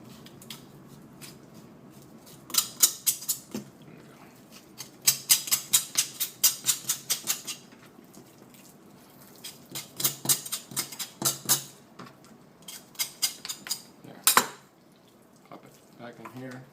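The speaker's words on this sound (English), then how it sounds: "you're looking to just cut the meat all around it so we can get to the bone and start scraping" Knife cutting and scraping meat off chicken bones while deboning, with repeated short scraping and tapping strokes against the board in clustered bursts over faint kitchen background.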